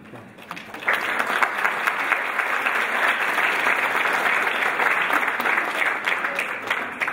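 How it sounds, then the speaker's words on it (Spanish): Audience applause at a Big Data Analytics Summit roundtable, a sustained round of clapping from a seated crowd that swells after a second and holds steady to the end, with no talking over it. "Y aplaudís."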